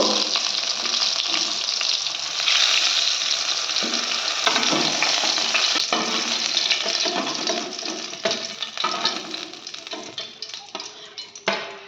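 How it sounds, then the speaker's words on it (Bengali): Pointed gourd pieces frying in oil over a high flame, a loud, crackling sizzle with stirring and rustling that thins slightly toward the end; no talking. "আমি পটলগুলো একটু হাই ফ্লেমেই ফ্রাই করে নিচ্ছি।"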